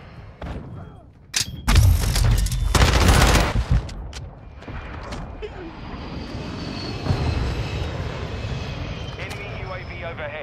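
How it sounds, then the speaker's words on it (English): An enemy UAV aircraft passes overhead in a shooter video game, its engine droning loudly after heavy gunfire and explosions, then fading to a steady whine. Players talk over it. "Enemy UAV overhead."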